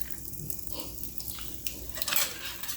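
Metal sink strainer tapped against a kitchen sink a couple of times to knock food debris loose, giving sharp clinks that ring out over a background of running water, with a brighter cluster of clatter near the end.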